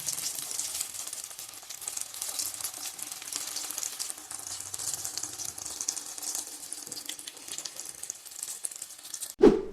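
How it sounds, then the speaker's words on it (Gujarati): Onion tikki cutlets fry in hot oil, making a continuous crackling sizzle at moderate volume, ending with a short clatter of utensils. "આવી જ રીતે આપણે બધી ટીકીને તેલમાં ફ્રાય કરી લઈશું."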